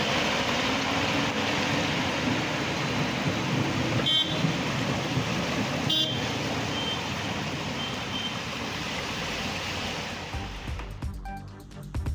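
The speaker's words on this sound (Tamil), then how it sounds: "ராசிபுரம் மற்றும் அதன் சுற்றுவட்டார பகுதிகளில் பெய்த கனமழையால் சாலையில் கழிவுநீருடன் மழைநீர் கலந்து பெருக்கெடுத்து ஓடியதால் மக்கள் அவதி" Heavy rain pours steadily in a town street where rainwater mixed with sewage floods the road, a dense continuous hiss with faint traffic and a brief beeping, ending in quieter patter.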